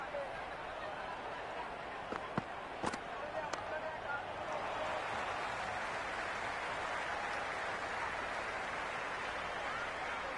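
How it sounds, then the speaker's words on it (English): A packed cricket stadium crowd at a T20 World Cup match between Zimbabwe and Afghanistan keeps up a steady, far-off roaring buzz, with a few sharp claps early on and a commentator's voice over the top. "There's a buzz, a real buzz coming from the stands."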